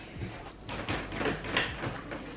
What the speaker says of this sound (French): on est obligé de les soulever pour les fermer